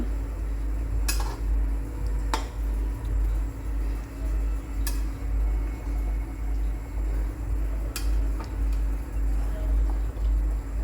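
A lid is set on a pan of katla fish cooking for doi katla. A few sharp metallic clinks land at scattered moments over a steady low kitchen hum.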